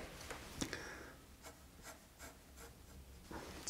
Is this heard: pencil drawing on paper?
yes